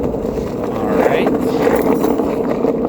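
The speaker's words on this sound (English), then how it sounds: "Skate my way into the bike path." A skateboard rolls with a continuous close gritty rumble of wheels on pavement, while someone talks over it.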